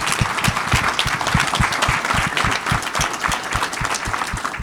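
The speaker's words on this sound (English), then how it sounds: "round of applause" Sustained audience applause at a Canadian event, dense and steady for the whole stretch with many hands clapping at once, fairly loud and close, with no talk over it.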